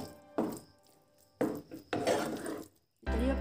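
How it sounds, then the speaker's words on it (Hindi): Tomato chaat with lemon juice is stirred in a bowl with a spoon, making several separate scraping, clattering bursts of utensil on dish with short pauses between, close and fairly loud. "इसे भी अच्छे से मिक्स कर लेते हैं।"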